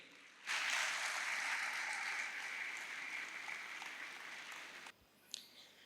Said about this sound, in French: un tas d'applaudissements pour notre très chère Nefatou Djei